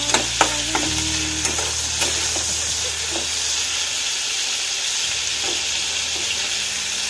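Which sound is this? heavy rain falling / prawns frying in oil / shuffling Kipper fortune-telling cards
prawns frying in oil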